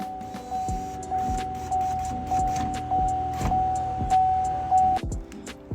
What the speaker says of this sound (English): thankfully my impact driver has a screw setting on it